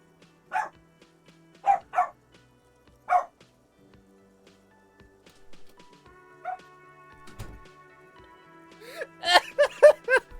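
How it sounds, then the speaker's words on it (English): A dog barks nearby, several sharp single and double barks at uneven intervals, then a quick burst of rapid barks at the end, loud against a quiet background with no talk. "What are you barking at?"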